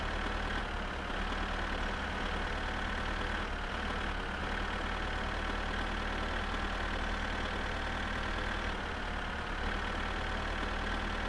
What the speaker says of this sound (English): It sounds like something's stuck and clunking on our car, our tractor